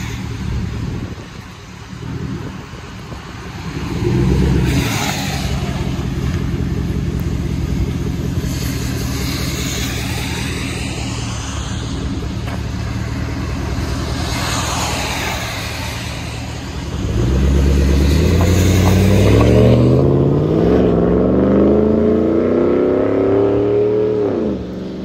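A Chevy Trailblazer's 5.3L V8 runs nearby, idling with an uneven, loping rumble that swells in revs midway and later climbs into a louder, rising acceleration.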